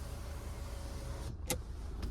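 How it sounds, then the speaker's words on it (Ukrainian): Electric panoramic sunroof motor on a 2015 Hyundai Grand Santa Fe 2.2 diesel running steadily with a low hum inside the cabin, followed by a short sharp click or thunk as the roof mechanism stops, then faint further clicks. "Панорамний дах все працює, все відкривається, закривається по автомобілю"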